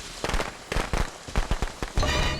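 Firecrackers go off in the Friday the 13th video game as a rapid series of sharp crackling pops, about half a dozen bursts in quick, uneven succession and close up, ending in a denser fizzing crackle.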